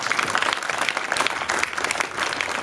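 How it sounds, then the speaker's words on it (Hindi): An audience at a school award ceremony gives loud, sustained applause honouring the school, dense close clapping throughout. "जोरदार तालियां"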